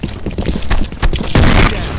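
A grenade blast in the shooter game F.E.A.R. amid combat, with heavy bursts of gunfire and a loud booming detonation near the end, dense and close with no pause.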